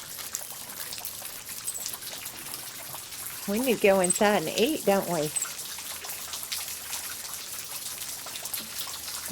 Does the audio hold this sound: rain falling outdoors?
yes